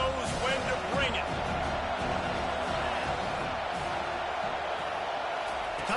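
A college football stadium crowd roaring in a sustained, dense wash of cheering and shouts, steady and loud for several seconds, with a broadcast commentator talking over it.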